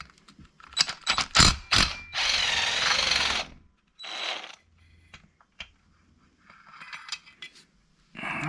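Cylinder bolts on a Husqvarna 346 XP chainsaw are loosened with a socket on an extension, giving close, irregular bursts of ratcheting clicks and metallic scraping separated by quiet pauses.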